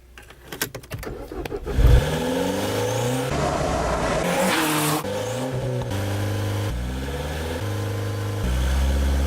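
A 2013 MINI Cooper S with a 1.6-liter turbo engine and six-speed gearbox starts up and drives off, revving hard through rising gear pulls with shifts between, loud and close.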